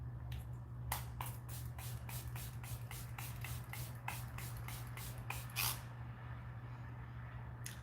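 A COSRX Aqua facial mist bottle sprayed over and over, a quiet run of about a dozen short, evenly spaced hissing puffs over a low background hum.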